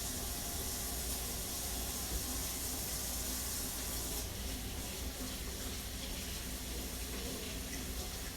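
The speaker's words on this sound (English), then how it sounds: "going to rinse off my hands." Kitchen tap running steadily while hands are rinsed, a constant close hiss of water with slight splashing changes partway through, no talk.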